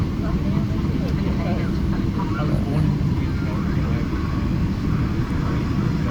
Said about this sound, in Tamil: Dubai flight number EK161 Boeing 777-300 air